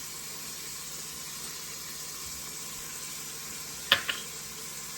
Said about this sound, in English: We're going to add our garlic to the pot.